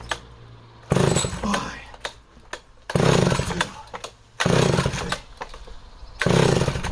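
Chainsaw that sat unused for a week being pull-started, four loud bursts of the starter cord and sputtering engine with short quiet gaps between attempts.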